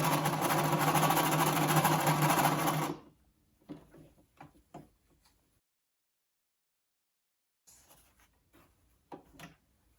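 Sewing machine stitching elastic onto a cloth face mask, heard as a close, steady whirring run for about three seconds, then stopping, followed by sparse handling clicks and rustles.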